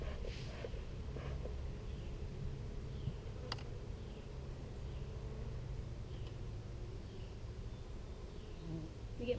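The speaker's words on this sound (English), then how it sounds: "Bees are not happy with me as it is" Honeybees buzz steadily and densely around an open beehive during an inspection, a continuous close drone running through the whole stretch with a few brief sharper clicks.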